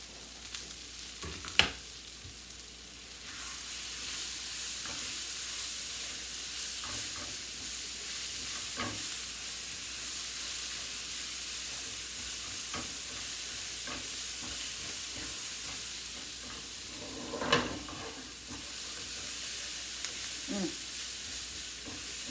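Garlic frying in a pan for a steak, peppers, onions and hash brown dinner, giving a steady, moderate sizzle and hiss throughout with a few sharp clinks of stirring and no voices.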